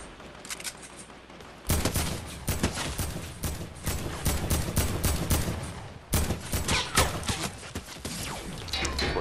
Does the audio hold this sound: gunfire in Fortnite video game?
yes